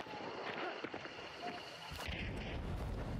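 Gunfire crackles through a firefight in the video game Hunt: Showdown, with sharp reports and a heavy low boom near the end over steady background noise.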